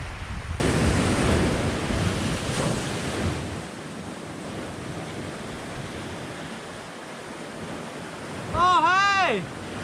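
Surf breaking on a beach, heard as a loud, steady wash of rushing water that eases slightly midway, with a short chirping call rising above it near the end.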